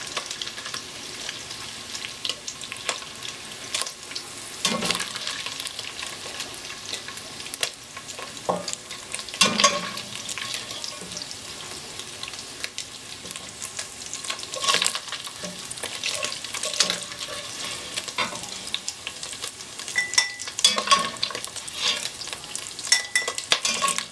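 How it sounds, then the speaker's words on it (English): Browned beef in a pot sizzles and fries steadily while a slotted spoon stirs and scrapes it out, with soft metallic clinks through the continuous crackle, and no talk. "we got this beef browned up. Let's get it out of the pot. Use a slotted spoon."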